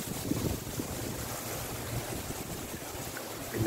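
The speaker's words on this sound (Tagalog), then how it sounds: "Ngayon, malakas pa yung hangin." Strong typhoon wind roars steadily across a microphone on a hillside in Tagaytay during a storm, a continuous loud buffeting rush with low gusty rumble and no voices.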